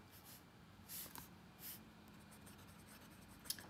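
A Platinum 3776 Century fountain pen with a broad nib writes on notebook paper, giving soft close scratching strokes in short bursts and a faint tap near the end.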